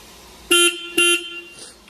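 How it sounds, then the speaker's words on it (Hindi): A Royal Enfield Hunter 350 motorcycle horn, working again after carbon was cleaned from its loose contacts, gives two loud, close, bright toots in quick succession. "अब फाइनली मेरा हॉर्न सही से बज रहा है"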